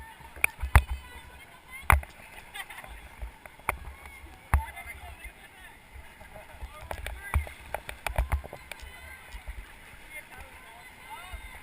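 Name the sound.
paddling a river raft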